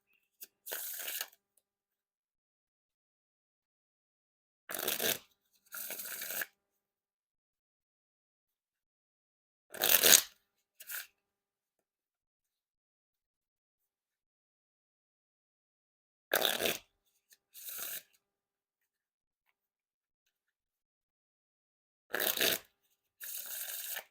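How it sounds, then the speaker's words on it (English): A deck of Fontaine Carrots v3 playing cards is riffle shuffled and bridged, giving short crisp fluttering bursts, often in quick pairs, with silence between them in a quiet room. "And now time for the riffle shuffle or bridge shuffle."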